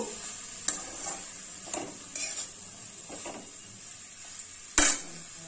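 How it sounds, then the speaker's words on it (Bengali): Shredded cabbage is added bit by bit to a hot pan for a vegetarian cabbage chorchori, giving a soft background sizzle broken by a few distinct scraping stirs and one sharper clatter of the spatula near the end, close and with no talk. "এবার আমি এর মধ্যে একটু একটু করে বাঁধাকপি দিয়ে দেবো। একসঙ্গে সবটা দেবো না, এরকম করে দিয়ে একটু নাড়িয়ে নেব।"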